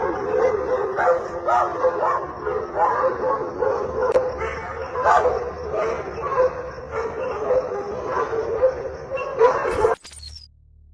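Several dogs bark and yip in a rapid, overlapping volley, fairly close and steady, ending abruptly in near silence.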